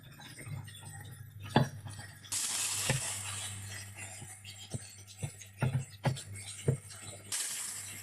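Ham and bacon frying in a pan, with a steady broadband sizzle and a few sharp clinks and taps of a utensil against the pan, close and fairly quiet.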